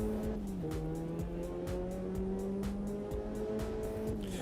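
A race car in a sim racing video game, its engine droning steadily and rising and dipping in pitch as it shifts, with tires squealing throughout. The sound is continuous and fairly loud, and no one speaks.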